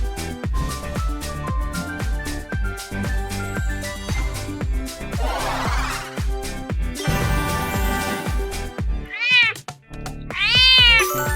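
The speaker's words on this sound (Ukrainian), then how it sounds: "Це кіт." Plucky background music plays, then two drawn-out cat meows ring out near the end, the second louder and longer.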